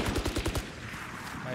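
A rapid burst of automatic gunfire rattles in a Call of Duty-style video game, six or so quick shots in about half a second before fading into a low rumbling tail.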